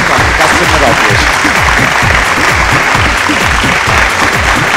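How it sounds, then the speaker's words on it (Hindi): Loud, dense applause from a large crowd at a singing competition finale in Patna's Gandhi Maidan, continuous and close, with voices calling out beneath the clapping. "जोरदार तालियों के साथ स्वागत"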